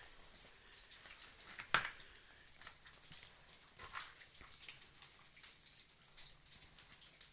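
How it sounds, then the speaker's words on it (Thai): A waterfall inside a turtle-shaped rock cave pours as a faint, steady hiss of rushing water, distant and continuous, with a brief louder splash near the start. "มีน้ำตกพร้อมครับพี่น้อง"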